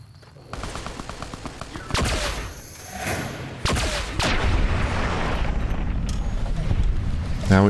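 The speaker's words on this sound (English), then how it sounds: "Now he's shooting something." A companion fires a gun in Fallout: New Vegas, sharp loud shots cracking out one after another over a rumbling outdoor backdrop, with no talk over them.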